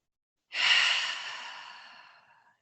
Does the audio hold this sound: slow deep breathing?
yes